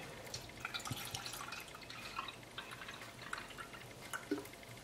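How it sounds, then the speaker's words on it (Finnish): Vinegar water is poured and trickles with faint, irregular drips and splashes, quiet and close, with no talking. "mä laitan tänne vähän vettä nytte"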